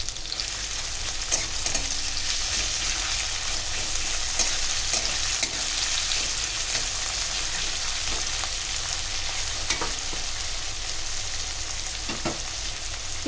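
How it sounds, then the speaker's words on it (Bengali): Chopped onions fry in hot oil in a pan, giving a dense, steady close sizzle for the whole stretch, with light stirring scrapes and clicks scattered through and no talking. "এবার পেঁয়াজ কুচিগুলো দিয়ে দিলাম।"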